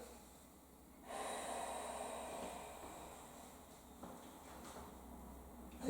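Deep controlled breaths during a modified Pilates exercise, drawn in through the nose and pushed out through the mouth, close and alone: one long airy inhale-exhale cycle followed by softer breathing.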